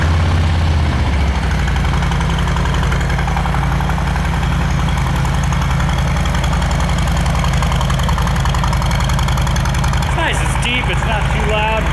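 A Harley-Davidson M8 Softail idles steadily with an S&S Stage 1 exhaust, resonators still fitted, giving a loud, close, continuous low rumble that barely varies, with a brief clatter near the end.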